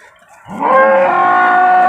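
An HF dairy cow at a cattle market gives a single loud, close, sustained moo after a brief quiet start.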